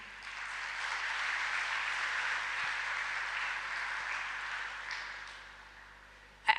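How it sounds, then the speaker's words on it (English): Employees at a company offsite presentation give steady audience applause, a dense, even wash of clapping that holds for several seconds and then fades out. "this really calls for an applaud."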